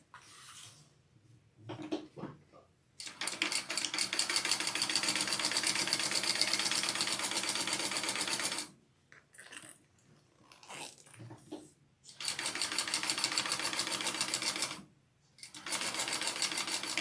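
A sewing machine stitches pieces of a Brunella bag together in several long, even bursts of rapid whirring, separated by short pauses and quiet handling noises.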